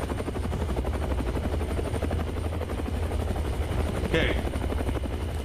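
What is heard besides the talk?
helicopter, from video game Follia Dear Father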